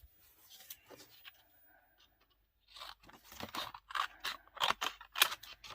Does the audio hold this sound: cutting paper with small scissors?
yes